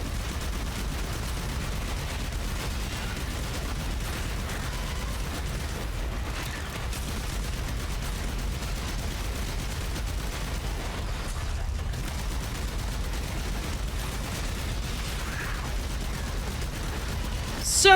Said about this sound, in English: So many bright explosions.